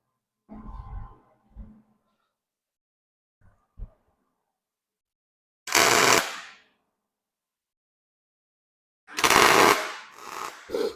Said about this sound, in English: my stinger hit the welder and started pushing the trigger